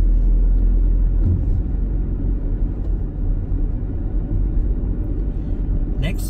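A car engine in second gear drones with a low, steady rumble while driving through a German town street, loud and close throughout with no clear breaks.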